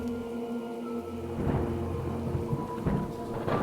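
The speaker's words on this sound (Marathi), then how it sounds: "पावसाचा जोर पुन्हा वाढला" Heavy rain pours down steadily, with a deep rumble of thunder rolling through the downpour and no voices.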